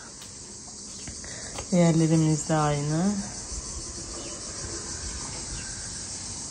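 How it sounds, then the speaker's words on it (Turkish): Crickets chirp in a steady, high, continuous drone that fills the whole clip, with someone briefly speaking Turkish over it. "Ah, günaydın cırcır böcekleri, günaydın."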